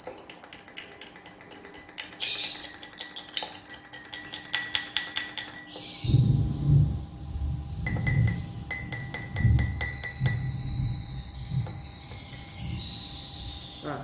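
A spoon stirring a glass of water, oil and condensed milk, with repeated light clinks of metal against glass in quick rhythmic bursts, a low rumble rising midway, no speech.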